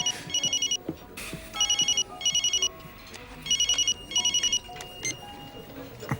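A telephone rings in bursts of rapid electronic trills, five rings spaced about a second apart, loud and close indoors, with faint background sounds between rings.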